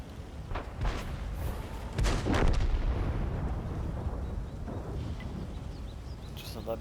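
Artillery fire from a Leopard-era tank match in World of Tanks, with several heavy booming shots in the first three seconds, then a sustained rumbling battle bed fading lower.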